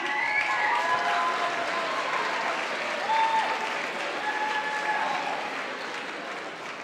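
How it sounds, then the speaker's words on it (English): Sustained crowd applause at the 2018 Adrian College ACEES Awards for the mascot Bruiser, a full steady roar of clapping with scattered cheers that slowly tapers off. "Round of applause for your mascot"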